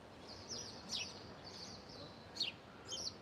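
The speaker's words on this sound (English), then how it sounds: "Can you hear the birds singing?" Birds sing outdoors near a beach, with several short bright chirps and trills spaced through the clip, faint against soft background noise.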